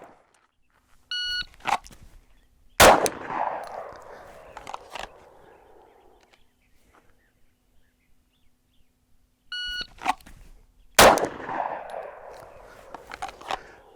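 Glock 19 and Glock 26 pistols firing at a shooting range, two sharp, loud single shots several seconds apart, each preceded by a short electronic timer beep and a few handling clicks.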